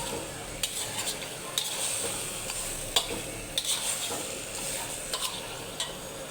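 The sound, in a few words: fish head and bottle gourd frying with spices in a pan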